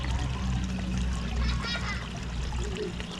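Water in a garden pond bubbles and trickles where rising air bubbles push it up, a soft continuous gurgle with light splashes, close by and fairly quiet.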